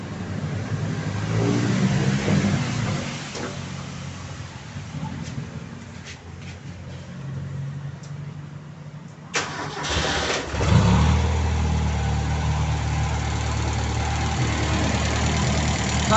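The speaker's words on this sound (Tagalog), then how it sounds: "So paandarin ko yung makina." A carbureted car engine fitted with an Aisan carburetor starts and runs at a steady idle, a continuous low rumble with a brief rev near the middle, heard up close with no talking over it.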